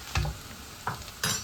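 Onions fry and sizzle in a pan for baingan bharta, with short stirring scrapes in three quick bursts, close and fairly quiet, with no talk.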